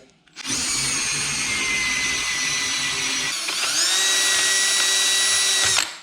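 A power drill boring into metal whines steadily and loudly, its pitch stepping up partway through as it keeps boring, then cutting off abruptly at the end.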